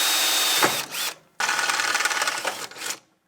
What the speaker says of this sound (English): Once again, we'll punch and drill.